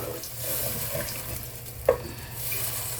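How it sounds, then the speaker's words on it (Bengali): Water hits hot oil in a pan while a barramundi (bhetki) fish curry cooks, giving a steady sizzle and stirring with one brief splash near the middle. "এবার আমি এর মধ্যে জল দিয়ে দেবো"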